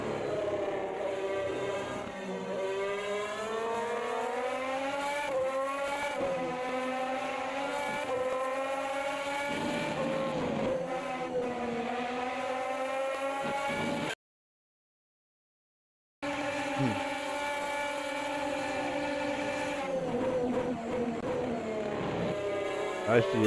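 F1 cars in a racing video game at the Spanish Grand Prix, engines screaming and shifting pitch as one car overtakes with DRS, a steady loud drone with a brief dropout midway, under commentator talk.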